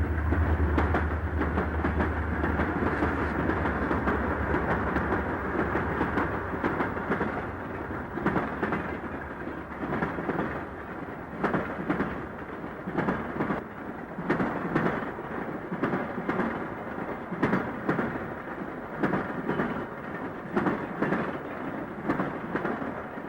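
A Wabash Railroad train crossing the Ann Arbor Railroad diamond at Milan, Michigan, a heavy continuous rumble with steady clickety-clack of wheels over the rails, close and loud, with no voices.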